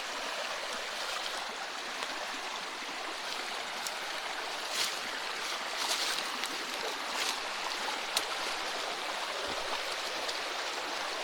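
Mountain stream near a waterfall in a forested spot in Gönen, Turkey, with steady, continuous broadband rushing water, moderately loud and unbroken, no talking over it.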